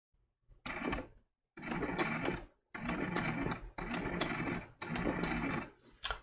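A sewing machine stitches a snowflake applique for a quilted trivet in five close, steady bursts of rapid needle chatter separated by short pauses, with no talking.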